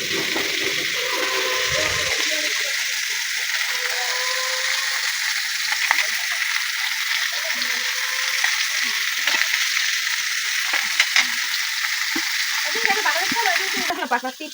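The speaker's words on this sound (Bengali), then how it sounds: "এই যে আমুর পোয়া মাছগুলো ভাজা হয়ে গেছে, কি সুন্দর একটি লাল লাল রং হয়েছে" Poa fish pan-fry on a clay stove in a village kitchen, a constant bright, hissing sizzle running throughout with occasional faint knocks and soft scraping.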